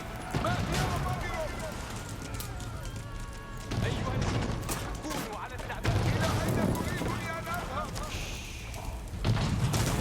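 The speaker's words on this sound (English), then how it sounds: "Sir, what are you shooting at?" Soldiers firing in Age of Empires IV: repeated volleys of gunfire crack and thud in bursts across a busy battle, mixed with clashing game effects and layered under frequent talk.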